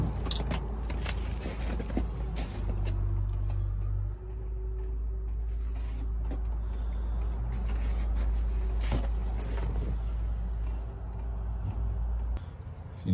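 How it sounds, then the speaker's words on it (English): A 1978 Ford Bronco on 33-inch tires with a 2-inch lift drives down the road, giving a steady, loud low rumble of engine and road noise with creaks and rattles throughout and no talk. "driving down the road."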